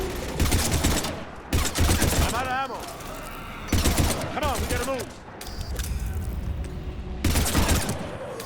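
Heavy gunfire in a Mass Effect 3 battle: rapid fusillade bursts of automatic weapons come in repeated loud waves, with voices shouting between and over the shots.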